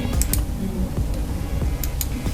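Buttons on an EGA M3 mouse are clicked in a scattered series of sharp, close clicks, some in quick pairs, over a low background hum.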